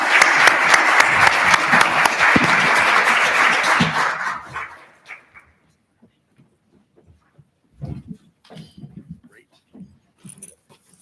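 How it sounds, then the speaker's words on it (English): Audience applause after a panel session at a financial services learning and talent development event, a dense wash of clapping that fades out after about four seconds, followed by sparse voices and small handling noises. "So round of applause."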